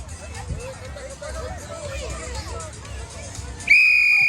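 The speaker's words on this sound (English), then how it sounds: "Listen to my whistle, okay?" A whistle is blown sharply and loudly to start a first-grade girls' race at a Kosrae Liberation Day event in Honolulu, cutting through crowd chatter and children's voices near the end.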